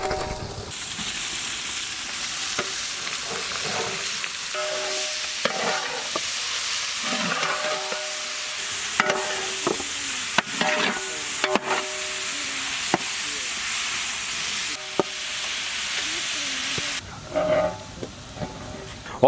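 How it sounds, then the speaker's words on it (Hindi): Chopped onions and chicken mince fry in hot oil with a loud, continuous sizzle and hiss, broken by the scrape and clatter of stirring, all close up and without talk. "ऑयल गर्म हो गया है, इसी में हम लोग फाइनली चॉप्ड ऑनियंस ऐड करेंगे।"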